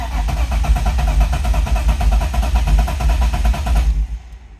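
A car engine with a missing coil pack runs rough and loud up close, its uneven, misfiring chug throbbing steadily for several seconds before cutting out abruptly.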